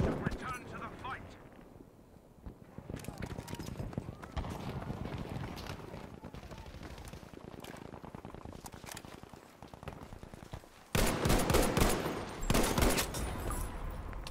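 Selbstlader rifle fire in Battlefield 5 crackles in rapid bursts of shots over a busy battlefield din, with a louder volley near the end; someone talks over parts of it.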